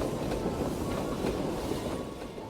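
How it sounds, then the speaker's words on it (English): In a video game, a train rattles along with loud wind rushing through an open window, making a dense, steady roar with rhythmic clickety-clack wheel beats and no voices. "Yo, this wind is so loud, bro!"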